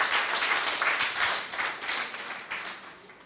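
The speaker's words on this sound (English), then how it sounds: "A quick round of applause for the teenagers in the room" A live audience in a speaking hall claps for the teenagers in the room, with dense, steady applause that holds at an even level for a few seconds with no voices over it.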